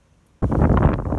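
On a windy day outdoors, gusts strike the microphone and a sudden rumbling buffet starts after a short quiet moment, then holds loud and close with uneven surges and no talking.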